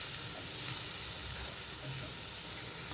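Chopped capsicum stirred in a frying pan for a capsicum tomato curry gives a steady, close sizzling hiss with faint scraping, continuous and fairly quiet.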